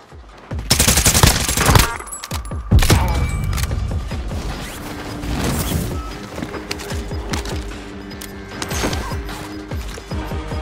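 Gunfire in the video game Warzone from an AK-47u, with loud bursts of automatic fire and single shots mixed with mechanical clicks and reload sounds, dense at first and then trailing into scattered shots.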